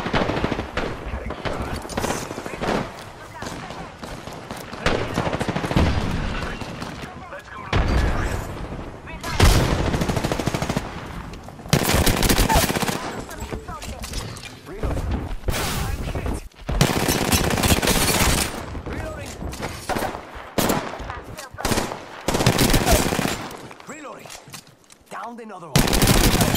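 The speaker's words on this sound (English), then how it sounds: "I'm getting shot at." Gunfire during an Apex Legends match: repeated bursts of automatic fire and single shots come in loud clusters across the whole stretch, broken by brief lulls.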